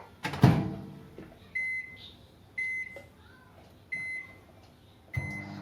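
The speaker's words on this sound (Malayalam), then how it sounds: "ഇനി നമുക്കിത് ഓവനിൽ വെക്കാം. ഫസ്റ്റ് 2 മിനിറ്റ്സ് ഇത് വെക്കണം ഓവൻ്റെ അകത്ത്." A microwave oven runs while roasting spicy masala peanuts, with a loud thump at the start followed by a quiet hum and a recurring high beeping tone about once a second, with no voices.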